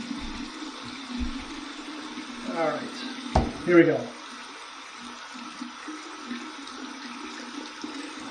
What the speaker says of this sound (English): Let's just run this under some cold water and see what kind of feedback we get.